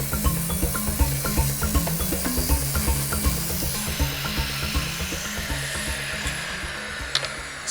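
A power saw rips a wooden 2x4 into narrow 5/16-inch lattice strips for a pergola build, a loud continuous buzzing cut with a rapid rhythmic chatter that eases into a smoother whine toward the end.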